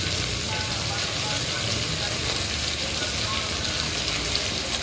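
Onion, tomato and capsicum sautéing in a pan for masala macaroni make a steady, close sizzling hiss throughout, with a voice talking over the frying.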